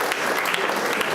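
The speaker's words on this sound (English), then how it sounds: "big round of applause for Madam" An audience at a campus gathering on women's empowerment and safety breaks into dense, continuous applause, loud and close, filling the short moment with no break.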